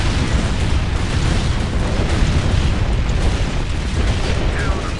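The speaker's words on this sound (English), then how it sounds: "you see these vultures just absolutely decimating everything" Explosions from vulture gunships attacking in a Crucible mod Imperial Guard strategy game match, a dense, continuous barrage of booming blasts and bursts layered loudly without a break.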